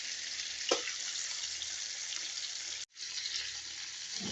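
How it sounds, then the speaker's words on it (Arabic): Cooked chicken sizzling steadily in oil in a frying pan, a continuous close hiss with a brief clatter near the start and a momentary break later, no voices. "خلينا زيت بالطاوة جاي نحمسها"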